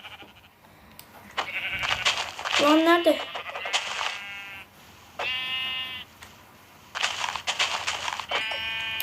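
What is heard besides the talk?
sheep bleating in a video game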